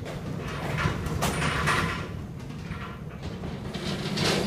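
A vintage 1960s Otis freight elevator door sliding shut in a university engineering building, a heavy rumbling, rattling slide with metallic scraping that carries on for several seconds, near and fairly loud, with no talking.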